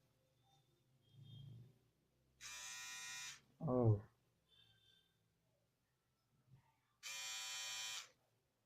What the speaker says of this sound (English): that's the sound of the trimmer.